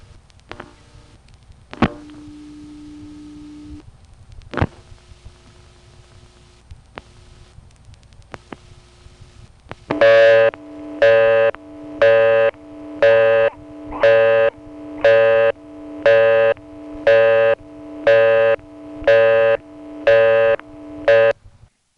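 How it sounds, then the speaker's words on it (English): A local busy signal on a 1976 Colonial Beach, Virginia payphone line: after a few clicks and a brief tone, a loud buzzy on-off tone repeats in an even rhythm, about a dozen pulses, with no talk over it. "Let's dial the number of our own payphone to get the local busy signal."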